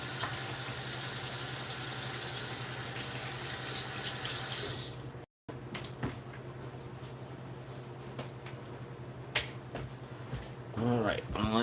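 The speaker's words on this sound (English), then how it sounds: "let me wash my hands quick" A kitchen tap runs into a sink for hand washing during breakfast cooking, a steady splashing stream that cuts briefly, then resumes more faintly with scattered clinks and soft voices nearby.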